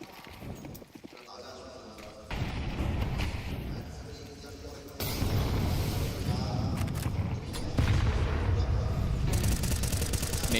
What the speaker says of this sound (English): Continuous flashbangs coming up from his teammates so that he can try to take this duel